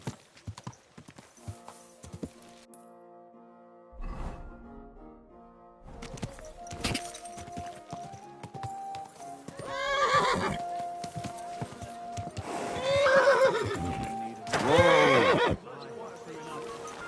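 A horse on the way to a forge neighs and whinnies loudly several times, with hooves clip-clopping nearby between the calls and someone speaking calmly to it.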